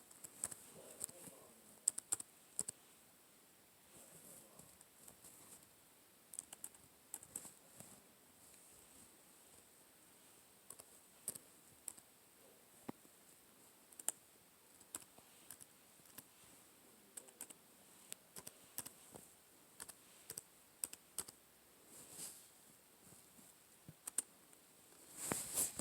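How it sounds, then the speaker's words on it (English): Someone types on a computer keyboard in quick, irregular bursts of soft key clicks, close but faint and without speech, against a quiet background. "I'm typing and holding the phone at the same time."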